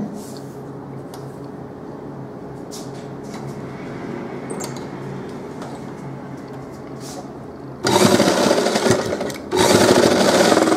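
Sewing machine stitching a deep neck double katori blouse, quiet fabric handling at first, then two loud close bursts of rapid mechanical stitching near the end.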